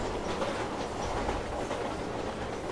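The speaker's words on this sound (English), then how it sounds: "you can see we're at the back of the train" A steady, dense rattle and rumble fills a moving train carriage in the Silent Hill 3 video game, with a continuous clatter of wheels at the rear of the train and no voices.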